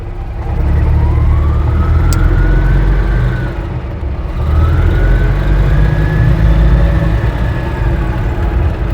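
An Invacar three-wheeled car is put into gear and pulls away, its loud close engine note rising and falling with two gear changes, a steady droning whine over a heavy low rumble.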